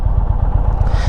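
Indian Springfield Darkhorse motorcycle engine and exhaust with a steady low throbbing pulse, loud and close, running continuously without pause.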